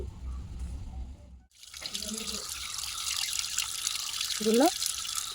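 Tap water runs steadily into a sink while crabs are being washed, a broadband rushing that starts abruptly after a brief pause, with a voice audible near the end.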